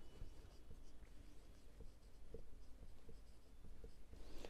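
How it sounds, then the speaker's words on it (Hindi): Marker or chalk writing on a board during an accounts ledger lesson, steady faint scratchy strokes with small taps, close and continuous against a low background hum, no talk. "यहाँ पे हम लिखेंगे बाई राकेश अकाउंट"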